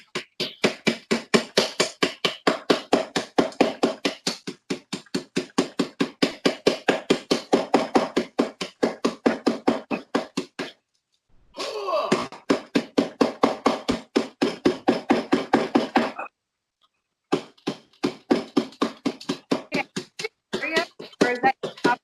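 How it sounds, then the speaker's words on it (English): Meat tenderizer pounding dark chocolate in rapid, steady strikes, close and sharp, in long bursts broken by short pauses, with faint talk in the gaps. "A meat tenderizer,"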